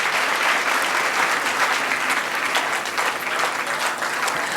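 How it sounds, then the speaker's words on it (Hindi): Audience applause fills an auditorium at a talk show with a veteran film star, a dense, steady clapping from a large crowd, loud and continuous throughout with no speech over it. "उससे ज्यादा जोर से आप लोगों की तालियों की गड़गड़ाहट होनी चाहिए इस ऑडिटोरियम में"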